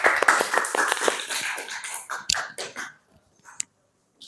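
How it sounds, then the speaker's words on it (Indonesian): A classroom group applauds a student group's presentation with a brisk burst of hand claps that thins out into a few scattered, fading claps before falling quiet. "Kasih aplaus untuk kelompok 2"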